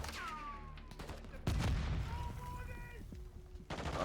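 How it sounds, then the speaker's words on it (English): A grenade explosion and gunfire in the Call of Duty DMZ video game mode, with scattered shots followed by a heavy boom midway and more firing after it, over a busy game background. "They just threw a grenade at us."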